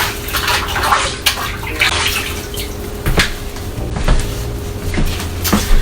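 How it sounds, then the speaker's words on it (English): Hands are rinsed under a running kitchen faucet: a continuous hiss of flowing water, close and fairly loud, broken by a few small knocks and splashes, with no talking. "I'm going to rinse my hands real quick."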